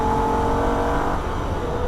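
A Holden VF Ute engine holds full throttle on a Nürburgring lap, a loud, steady, close-up drone without gear changes or letup.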